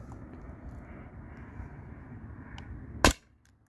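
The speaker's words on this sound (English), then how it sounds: "So this should be 7 shots." A faint steady hiss runs until a single sharp crack from a Beeman BP50 CO2 air pistol firing a steel ball, close, with quiet afterward.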